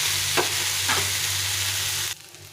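Pasta sauce stir-frying in a pan just after a splash of vinegar, loud steady sizzling with two scraping stirs, then the sizzle drops abruptly near the end.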